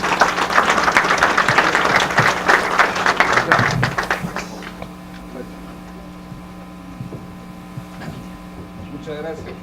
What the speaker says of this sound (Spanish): Los recibimos con fuertes aplausos